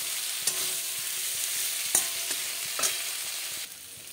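Fried potatoes being stirred into a spice masala in a pan, a steady close sizzle broken by a few sharp scrapes and clinks of the spoon.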